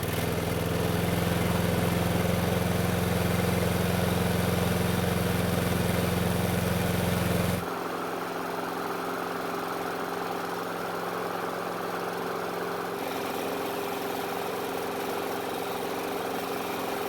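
A Snapper lawn mower engine runs steadily after being started, a rough, buzzing idle that abruptly drops to a quieter, thinner hum partway through and keeps running with no talking.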